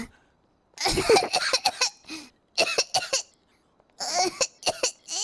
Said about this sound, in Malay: Sekejap saya batuk.